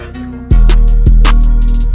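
Electric bass and guitar from Kontakt playing a beat intro with chorus for stereo width, entering after a quiet lead-in with deep sustained bass notes and bright plucked accents, loud and continuous.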